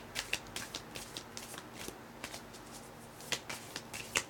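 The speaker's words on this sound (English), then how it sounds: "I was sitting there shuffling the cards" Tarot cards being shuffled by hand, a series of quiet, crisp riffling flicks and taps in an irregular rhythm, close and soft, with no talking.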